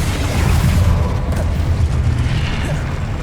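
A Confringo fire spell from the Hogwarts Legacy video game detonates as a loud, sustained rumbling boom, a dense roaring blast that fills the whole clip with deep low-end energy.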